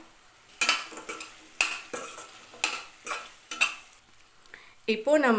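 Fried paneer being added to oil in a pan, heard as a series of sharp clinks and stirring scrapes against the metal over a light sizzle, with a few spoken words at the start and a voice near the end.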